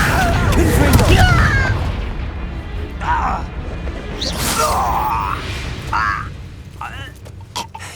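Explosive spell blasts in the Hogwarts Legacy video game, with several booming cracks and crashes scattered among game sound effects and a spoken character voice.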